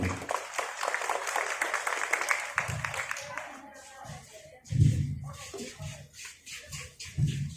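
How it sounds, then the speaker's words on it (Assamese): Applause from an audience at a public function greeting an arriving MLA guest: a burst of brisk clapping up front that thins out as voices talk over and after it. "তেখেতৰ বাবে এটা সুন্দৰ হাত চাপৰি হ'ব লাগে"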